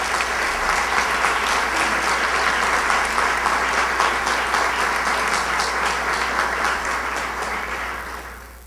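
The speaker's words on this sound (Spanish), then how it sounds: "Quiero pedir a todos los concurrentes un aplauso" Sustained applause from the audience at a solemn municipal council session for a national anniversary, dense and steady throughout before tapering slightly at the end.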